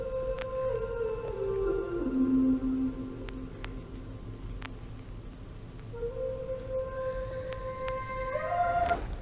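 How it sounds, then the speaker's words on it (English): A pitched, chopped vocal sample with glitchy, game-like stepping notes over a noisy background, sliding down then jumping back up, moderately loud and alone. "the final thing that I added to the melody was just an arcade vocal chop"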